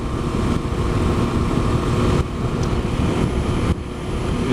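A Yamaha motorcycle rides at speed in the rain. Its engine drones steadily under heavy wind rush, with brief dips and shifts in the roar, and there is no talk.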